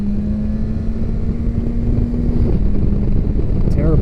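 A BMW S1000XR motorcycle rides over bumpy, potholed roads, giving a loud, steady engine drone with a sustained low tone and heavy rumble, mixed with strong wind buffeting throughout.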